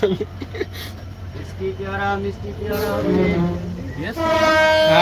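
The Kopotaksha Express passenger train pulling out, with a horn blast and drawn-out tonal squeals and rumble from the wagons rising toward the end, people talking over it.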